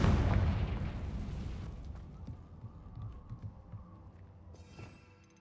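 A Confringo blasting spell explodes in the Hogwarts Legacy video game: a loud, close blast at the start that rumbles and fades over two seconds into quieter game ambience, with a faint bright shimmer near the end.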